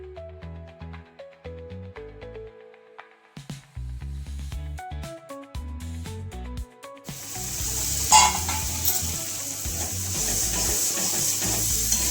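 Ground masala fries in oil in a pan, a hissing sizzle rising loudly in the second half as it is stirred, following a stretch dominated by tonal music with scattered clinks.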